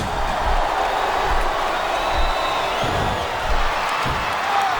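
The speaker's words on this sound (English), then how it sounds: "I'm not sure I agree with what the crowd is chanting, JR, but I guess it's their right." In the wrestling video game WWE SmackDown vs Raw 2007, a large arena crowd chants and roars as a steady, dense wash of noise, with slight swells in volume and no clear speech.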